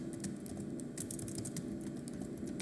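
Rapid typing on a computer keyboard, a quick irregular patter of light key clicks, close and steady, with no talk.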